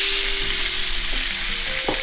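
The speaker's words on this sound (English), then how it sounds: "And we're just going to brown it in our wok as so." Beef schnitzel browning in a hot wok, a steady close sizzle and fry with a couple of brief stirring knocks, no voices.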